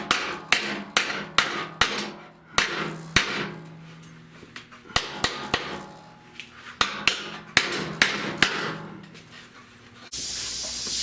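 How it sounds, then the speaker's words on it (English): Sharp metallic hammer blows on hot metal during repair of a rusted radiator core support ring out in rapid runs of strikes, loud and close, followed by a steady hiss of spray at the end. "I want to hammer"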